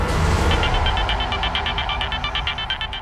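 A telephone rings with a quick, repeating electronic ringtone pattern lasting about three seconds over a low background rumble, with no talking.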